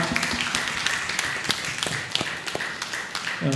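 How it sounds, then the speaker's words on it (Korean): Standing church congregation clapping in blessing for a newlywed couple, a sparse, scattered patter of hands with a few sharper individual claps, fairly close and moderate in volume. "우리 잠깐 일어나시면 함께 축복의 박수를 올려드리겠습니다."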